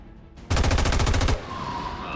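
A rapid automatic burst of gunfire from XCOM 2, about a dozen loud close shots in under a second, followed by quieter game ambience.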